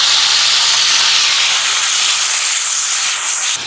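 Water poured into frying onions for egg malai curry sets off a loud, steady hissing sizzle of steam that fills the pan throughout, cutting off abruptly at the very end.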